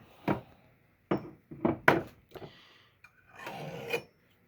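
Hand file rasping along an axe blade edge, a handful of separate close strokes, each a short scratchy burst, ending in one longer drawn-out pass.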